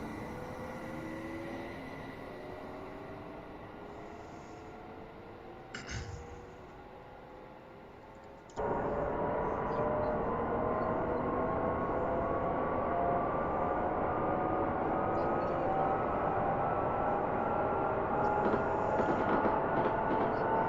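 A two-car train in a train simulator game runs with a steady mechanical drone and rising motor tones that swell suddenly partway through and then hold at a louder, constant level.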